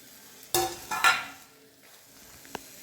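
A spoon stirs sizzling food in a frying pan after the lid comes off, with two sharp bursts of scraping and sizzle close by, then a quieter simmer and a faint clink.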